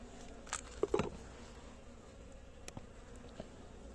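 A faint, continuous buzz of honeybees around a hive hums in the background, with a few brief taps and clicks close by.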